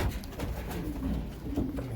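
Pigeons coo softly in a breeding loft, their low, throaty calls overlapping continuously and close by, with no talk.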